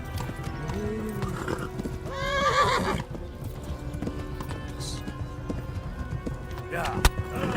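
Hooves beat a running rhythm in Kingdom Come: Deliverance while a horse lets out several whinnies, the loudest around the middle, with a sharp knock near the end and voices talking faintly underneath.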